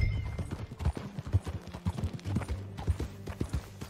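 Steady clip-clopping of horse hooves at a walking pace in Red Dead Redemption 2, close and fairly loud, with no talking.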